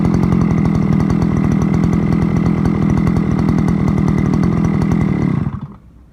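A Forte petrol brush cutter runs after a compression repair, its small two-stroke engine buzzing loudly and steadily for several seconds before cutting off and dying away at the end.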